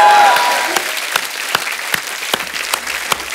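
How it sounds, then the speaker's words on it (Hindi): Studio audience on a Hindi TV comedy show breaks into loud applause, a dense burst of clapping that starts strong and gradually thins out, with scattered sharp individual claps standing out toward the end. "जोरदार तालियां"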